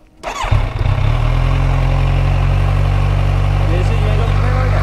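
A motorcycle with its stock exhaust starts up nearby and settles into a loud, steady, throbbing idle that continues to the end, with voices faintly in the background.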